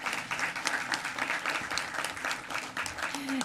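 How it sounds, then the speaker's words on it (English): Continuous applause from an audience at a city council meeting, a fairly even wash of clapping at moderate volume throughout. "please give them all an applause"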